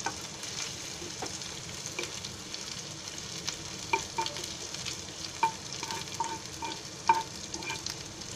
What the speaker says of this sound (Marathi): आता ते बटाट्यांना मी फोडणी देते.